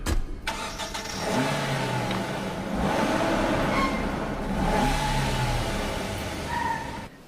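A car engine cranks and starts, then revs and pulls away in a few rising and falling waves of acceleration before fading, heard close with no talking.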